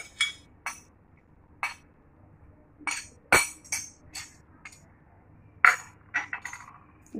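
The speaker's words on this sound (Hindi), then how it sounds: "इसको अच्छी तरह मिक्स कर लें।" A utensil clinks against a bowl while chicken marinade with oil and food colour is stirred: sparse, sharp metallic taps and scrapes at irregular intervals, close up and otherwise quiet.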